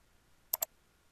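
Two quick computer mouse clicks, close and crisp, a short double tap while an eBird checklist is entered on a computer, with quiet room tone before and after.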